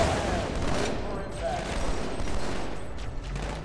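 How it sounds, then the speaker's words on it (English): Sustained gunfire in the Halo 2 video game, a dense, continuous rattle of shots and battle noise filling the mix loudly without letup, with game sounds layered throughout. "Can't really see what I'm shooting."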